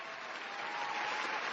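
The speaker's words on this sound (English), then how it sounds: "help me welcome her to the show by giving her a round of applause" A studio audience applauds to welcome a guest onto a talk show, with dense, steady clapping that holds at an even level for the whole moment and no voices over it.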